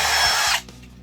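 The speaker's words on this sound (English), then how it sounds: "Grab your drill and your 1 1/4 inch spade bit. Start drilling." A power drill with a 1 1/4 inch spade bit bores into a wooden board, a loud, dense whir for about half a second before cutting off into a quieter low rumble.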